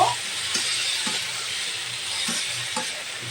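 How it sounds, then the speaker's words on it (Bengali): Washed masoor dal (red lentils) frying in a hot pan, a steady close sizzling hiss with a few soft stirring scrapes and clicks, no voices. "এখন এটাকে দিয়ে একত্রে ভেজে নেব"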